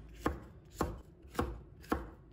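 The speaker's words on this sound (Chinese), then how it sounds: "再准备半个红辣椒，把它切成丝" Half a red chili pepper being cut into strips with a knife on a board, four evenly spaced, crisp, close chops at a steady, unhurried pace, with no voices.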